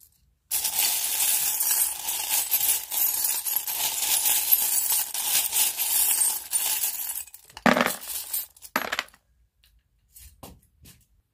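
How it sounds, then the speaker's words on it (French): Small metal and glass charms cast onto a board for a divination reading, a busy jingling clatter of clinks and chinks that tapers into a few scattered taps. "Et je vais tirer les charms."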